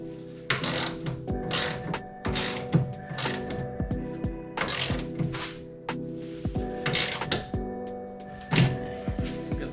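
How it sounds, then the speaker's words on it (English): An Icon ratchet wrench clicks and thunks in repeated bursts while tightening a BC Racing coilover on a 2005 Dodge Neon SRT-4, close and alone, with short mechanical pauses between strokes. "Good old Icon wrench here"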